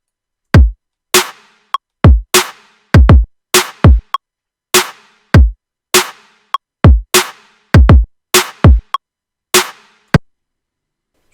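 A looped snare drum pattern programmed in Ableton for a hip hop beat: sharp, loud, isolated hits repeating in a steady rhythmic cycle, alone with no other instruments or voices.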